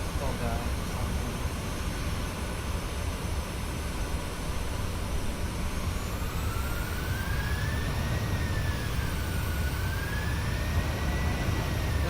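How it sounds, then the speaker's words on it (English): Boeing 737-800 jet engines in a flight simulator game on a windy Oslo to Bergen flight, a sustained dense roar with a whining tone that climbs and wavers in the second half. "you guys heard that the engine roaring like that"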